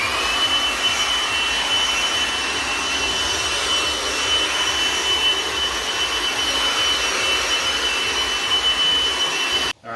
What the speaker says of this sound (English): I did my best with the blower to really try to get all the dust and all the nooks and crannies with the sand, get that out.